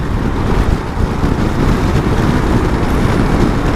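A Yamaha XMAX 250 scooter with 32,000 km on it rides fast at half throttle, with a loud, constant roar of wind buffeting the microphone that largely drowns out the engine.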